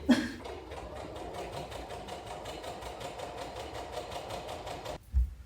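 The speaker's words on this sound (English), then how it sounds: "I'm gonna sew this now before I go to work" A sewing machine runs steadily, stitching a seam on homemade pyjamas with a fast even needle rhythm, close and continuous for about five seconds before stopping abruptly.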